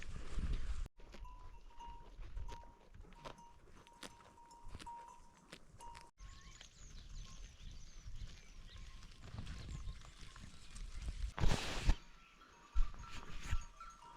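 A herd of goats moves across a high mountain meadow, giving soft scattered shuffling and hoof sounds under steady outdoor wind noise, fairly faint and continuous with a few louder knocks.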